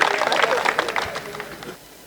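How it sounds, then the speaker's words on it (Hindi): Applause from an audience at a Hindi comic poetry gathering, a dense burst of many hands clapping that fades out after under two seconds. "एक बार तालियां बजाएं"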